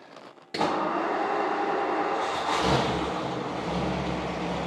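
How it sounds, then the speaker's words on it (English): A 1956 Ford Thunderbird engine cranks and fires after a brief quiet moment, then settles into a loud, steady idle that swells once as the throttle opens before holding a constant rumble. "Well, let's just hear this car start up."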